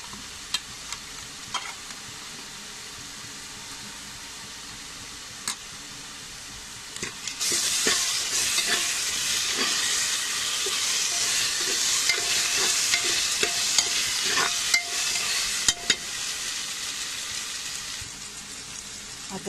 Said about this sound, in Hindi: अब इसमें 2 चम्मच अदरक लहसुन का पेस्ट ऐड करके फ्राई कर लेंगे।